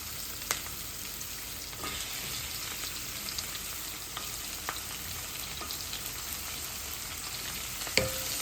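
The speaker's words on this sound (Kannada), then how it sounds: "ಇದ್ರ ಜೊತೆ ಕಟ್ ಮಾಡ್ಕೊಂಡಿರೋಂಥ ಕ್ಯಾಪ್ಸಿಕಮ್ ಸ್ವಲ್ಪ ಫ್ರೈ ಆಗಬೇಕಲ್ಲ" Cut capsicum fries in a pan, giving a steady, quiet hiss with occasional faint clicks and one sharper knock near the end.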